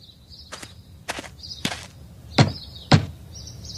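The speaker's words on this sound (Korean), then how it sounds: "뭘 새삼스레 노크를 하고 그러시오." Five sharp knocks strike a door in an uneven rhythm, close and loud. The last two land hardest, over a faint steady background tone.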